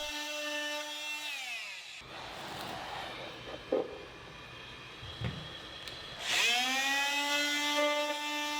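Floor adhesive being scraped off fir floorboards with a putty knife, two short scraping strokes under the droning whine of a steamer; the steamer's harmonic tone falls away at the start and rises back at the end.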